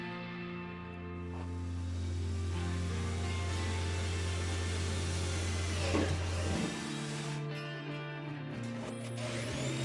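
A power saw buzzes steadily while cutting a hole in drywall for an electric fireplace, a close, even motor drone that shifts tone near the end as the cut finishes, with no talking.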